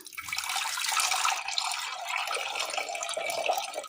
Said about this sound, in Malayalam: ഒരു ചട്ടി അടുപ്പത്ത് വെച്ച് കൊടുത്തതിന് ശേഷം അല്പം വെള്ളം ഒഴിച്ചു കൊടുക്കാം